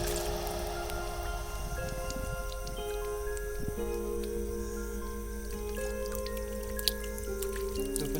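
Water drips and squishes as a leaf is washed by hand in a Konkan forest, a wet irregular trickle under a steady background hum with a faint tonal drone.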